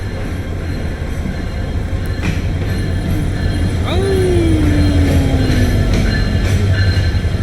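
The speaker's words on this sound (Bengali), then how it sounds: "ঢাকা অভিমুখী কুড়িগ্রাম এক্সপ্রেস সকাল দশটা একত্রিশ মিনিটে পার্বতীপুর রেলওয়ে জংশনের তিন নম্বর প্ল্যাটফর্মে এসে প্রবেশ করলো" A Dhaka-bound Kurigram Express pulls into platform three at Parbatipur railway junction, a steady loud rumble of rolling stock with a rising squeal of wheels that slides down in pitch, heard up close.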